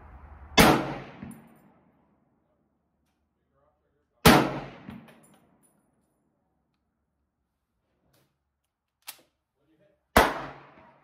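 Shots from an H&R M1 Garand rifle firing PPU 150-grain ball ammunition crack out one at a time, four sharp reports spaced a few seconds apart, with a short echoing tail after each and quiet in between.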